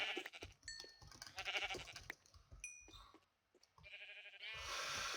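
Sheep in the Minecraft video game bleat in short, repeated bursts alongside game tones and clicks. A brief lull comes before a final bleat.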